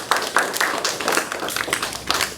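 Scattered clapping from a small group of kids at a chess lesson, a light, uneven patter of claps lasting a couple of seconds.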